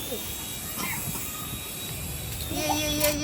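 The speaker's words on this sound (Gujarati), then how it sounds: "ઉડાન ભરે હાર્દિકભાઈનું હેલિકોપ્ટર." A toy helicopter whirs with a steady, thin motor whine that stays fairly close and grows louder near the end, with people talking and cheering over it.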